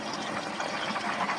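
Drip irrigation line carrying liquid organic fertilizer to strawberry plants, a steady close rushing and trickling of water flow that holds even throughout, with no voices.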